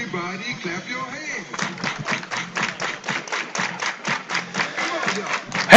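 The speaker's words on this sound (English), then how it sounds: "Everybody clap your hands." Fans in the stands at a varsity high school baseball game clap their hands in a steady rhythm, a run of evenly spaced claps that follows a short stretch of talking.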